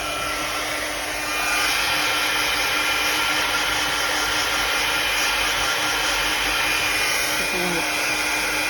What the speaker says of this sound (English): we might speed the drying up on this and use my heat gun